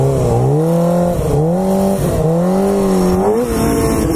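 Honda F4i motorcycle engine revving hard and steadily during clutch ups, a loud close whine that dips and climbs in pitch with throttle changes, alone without talk.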